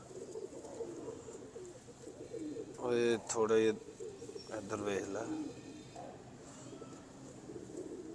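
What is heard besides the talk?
pigeons cooing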